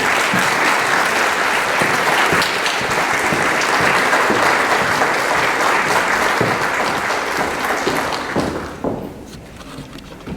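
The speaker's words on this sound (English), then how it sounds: "could we please welcome our grade 12 of 2021 with a warm round of applause" Large audience at a school valedictory ceremony gives a warm round of applause welcoming the grade 12 class of 2021, loud dense clapping that holds steady for several seconds and then fades away toward the end.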